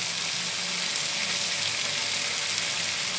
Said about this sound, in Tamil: இப்போ இது கூட வந்து நான் இந்த வறுத்து வச்சுருக்க இந்த வெங்காயத்தை வந்து இது மேலே நான் சேர்த்துக்கிறேன்